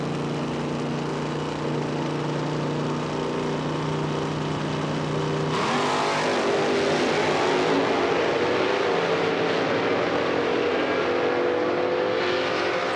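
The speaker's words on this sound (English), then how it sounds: "Aaron Allison with the 85 Camaro in the near lane." Drag racing cars, one an '85 Camaro, launching down the strip at an IHRA outlaw nitro event, with a loud steady engine roar that surges into a harsh rising full-throttle blast as the cars pull away, with no talk.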